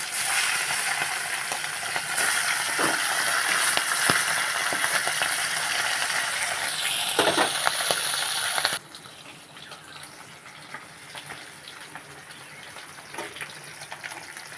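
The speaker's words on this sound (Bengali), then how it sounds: "বাকি কটা মাছ ছিল, সেই কটা মাছ ভালো করে ভেজে নেব" Bata fish sizzle in hot oil in a pan, a dense steady hiss that drops abruptly to a quieter crackle with occasional pops, close and without talk.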